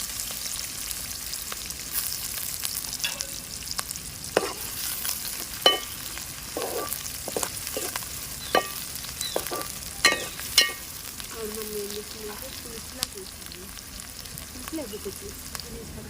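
Chopped large onion frying in hot oil in a pan for tomato egg curry, a steady sizzle broken by repeated sharp scrapes and clinks of a spoon stirring, close and alone without talk.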